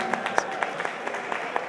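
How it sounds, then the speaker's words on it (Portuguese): A political gathering's audience gives a short burst of scattered clapping, sharp individual claps sounding at an irregular pace over a murmuring crowd. "Pedir uma salva de palmas pro Rony aí, gente."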